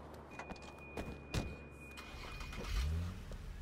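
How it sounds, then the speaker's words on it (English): Car engine starting in the video game Sleeping Dogs, a short ignition burst followed by a low idling rumble that builds toward the end, heard fairly close with no talk. "Take the car across the street."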